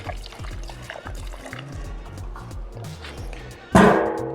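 Fuel trickles and pours into the fuel system of a Porsche 944 being primed, a soft burbling flow over low clanks, ending in a sudden louder splashing gush.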